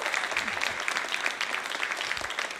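Sustained audience applause at a women's celebration luncheon, a thick, even roar of many hands clapping that runs the full length at steady loudness, with no talk over it.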